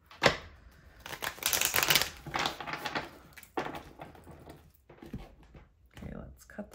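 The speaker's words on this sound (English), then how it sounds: "One more shuffle." A deck of tarot cards is shuffled in several quick bursts of riffling and flapping, close and fairly loud, with short pauses between bursts and a voice talking around them.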